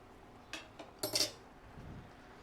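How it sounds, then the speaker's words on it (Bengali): A metal lid lifted off a pot of yogurt-marinated chicken for yakhni pulao: a couple of light taps, then a quick bright clatter and scrape of metal on metal, quiet and close, with no talking. "এবার ঢাকনাটা খুলে নিচ্ছি।"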